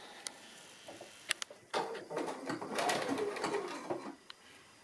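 A sewing machine stitches wool felt onto a fabric pocket page, a soft, faint mechanical whirring run in the middle of the clip, preceded by a few light clicks.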